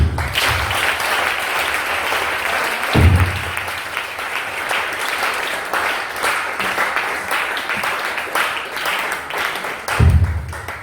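A church congregation at a revival service applauds loudly and continuously, a dense wash of many hands clapping with a couple of low thumps and faint voices underneath.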